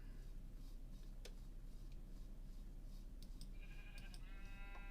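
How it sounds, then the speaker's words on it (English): A sheep bleats in the Minecraft video game, faint and brief, over steady background hum, with a few ticking clicks and a short tonal chime near the end. "we've got a black sheep as well"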